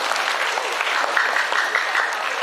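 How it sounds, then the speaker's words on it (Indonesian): An audience at an Islamic sermon at a vocational school bursts into steady applause, a dense, continuous patter of many hands clapping at once. "Tepuk tangan dong."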